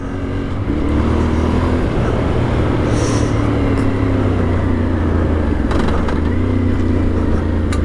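Yamaha Ténéré 700 World Raid motorcycle engine droning steadily while riding, mixed with rushing wind, a small throttle rise near the middle and no talk.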